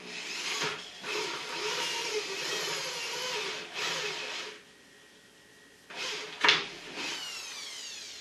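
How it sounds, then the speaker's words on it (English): Hole saw cutting through the wall of a plastic cooler during a jockey box build, giving loud grinding bursts in several passes separated by brief pauses, close up. "I've already got my handy dandy hole saw, so let's drill."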